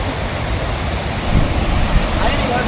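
Steady water flows and rushes at a river bathing spot near Thenperambur, close to Trichy, as a loud, continuous broadband wash with no distinct breaks.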